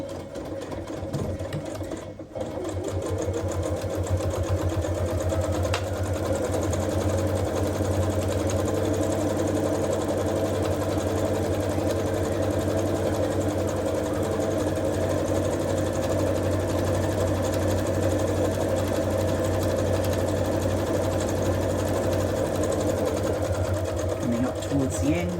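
A sewing machine top stitches a tote bag strap, running in a steady, close, continuous whir for the whole stretch after a brief start.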